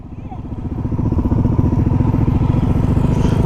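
A motorcycle engine is held against its rev limiter, giving a loud, rapid, buzzing stutter that builds and stays constant, close to the microphone, with a voice faintly heard over it.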